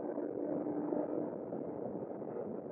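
A 2025 CFMOTO 450 Ibex motorcycle engine drones steadily at about 7,100 RPM with constant wind rush while riding at about 80 mph, loud and unbroken throughout.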